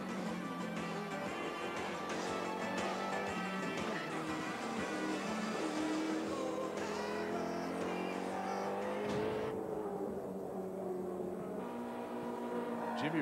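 Race car driven by Larry Perkins, engine roaring steadily as it is thrown around the circuit, pitch shifting through gear changes and cornering, heard continuously at a moderate distance.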